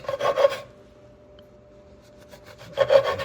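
A knife saws through a loaf of bread on a bias for crostini: two short rasping strokes, close and crisp, separated by a quiet pause.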